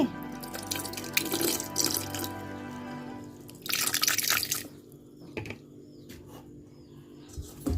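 Pieces of snail meat are washed by hand in water with lemon juice, giving close splashing and sloshing bursts, then quieter drips and trickles.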